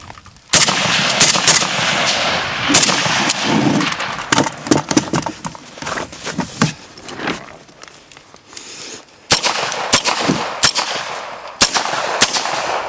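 Rifle gunfire during a shooting drill, loud close shots fired singly and in rapid strings with irregular gaps, mixed with shuffling movement and equipment handling between bursts.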